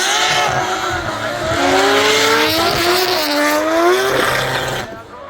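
A supercharged LS-swapped Nissan 350Z drift car roars around a competition track. Its loud engine revs swoop up and down, with tire squeal mixed in, and the sound fades out abruptly at the end.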